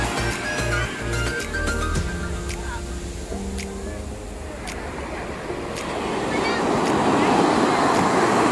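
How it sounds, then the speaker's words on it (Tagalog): Surf rolls in at a beach resort in Capones, Zambales, a broad rushing wash with wind buffeting the microphone that swells louder toward the end, while people chatter and exclaim nearby. "Uy, ang alon!"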